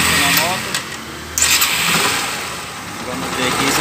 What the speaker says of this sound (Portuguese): vamos funcionar a moto